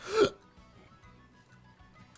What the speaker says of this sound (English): Oh no, I have the hiccups